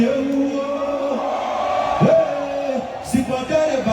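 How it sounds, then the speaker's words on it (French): Men in a comedy show audience shout and whoop together, a loud crowd bellow rising and falling with individual yells poking through, while a performer speaks over it. "Et si ce sont les garçons qui sont fidèles, les garçons crient."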